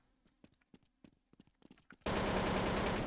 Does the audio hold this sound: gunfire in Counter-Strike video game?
yes